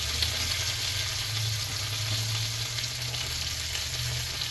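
Salmon fillet frying in oil in a pan, giving a steady, continuous sizzle with crackling texture that holds at an even level throughout, close up and with no one speaking.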